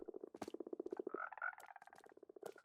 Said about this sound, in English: you've probably heard them croaking a lot